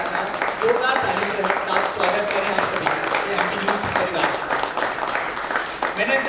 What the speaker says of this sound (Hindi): जोरदार ताली के साथ स्वागत करें आप सभी